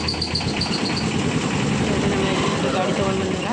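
A vehicle's engine idles steadily close by after arriving at a house being emptied, a low continuous rumble running under people talking.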